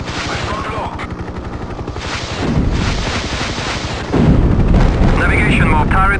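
Turret gun on a Hind attack helicopter firing in a 1998 combat flight game, a steady rapid rumble of shots over rotor and engine drone, growing louder partway through, with a faint radio-style voice near the end.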